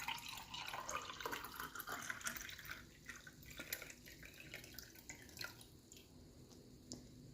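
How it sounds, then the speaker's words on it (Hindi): Juice poured into a glass makes faint, close trickling and dripping, fuller at the start and thinning to scattered drips toward the end. "जूस को हम गिलास में डालेंगे।"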